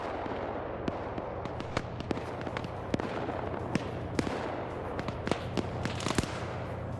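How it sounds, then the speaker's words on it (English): PKT machine gun fire in a combat video game, scattered sharp cracks and short bursts popping over a low droning engine bed, moderately distant and uneven in rhythm. "You're hearing the PKTs on that thing starting to engage."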